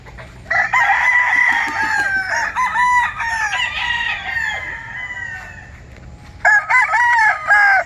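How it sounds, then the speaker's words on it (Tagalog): Several fighting roosters crow loudly one after another on a farm, long strained calls overlapping near at hand, with a brief lull before another bird crows again. "Dami nilang manok na panabong."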